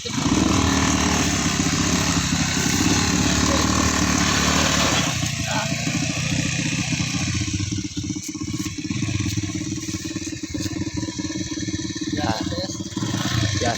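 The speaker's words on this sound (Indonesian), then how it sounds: "Tingali motor pikeun ka kieu." A motorcycle engine idles steadily, loud and close throughout, its low rumble continuous with some added rattling in the second half.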